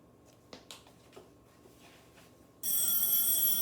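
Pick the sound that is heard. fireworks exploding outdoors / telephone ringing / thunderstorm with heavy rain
telephone ringing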